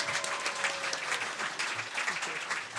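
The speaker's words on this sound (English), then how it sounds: "Give them a round of applause" Live studio audience clapping after a traditional jazz band performance on a riverboat stage, a steady mass of applause filling the room at moderate volume with a few scattered voices.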